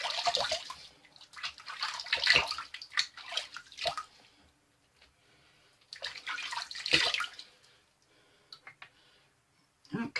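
Tap water runs and splashes while a face is rinsed after a vintage shave, coming in two uneven bursts of close splashing and dripping with quieter pauses between.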